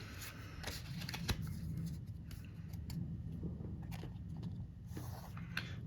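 A Heroclix figure's card handled and turned over on a table, giving soft papery flicks and light shuffling taps that come in several close, quiet bursts.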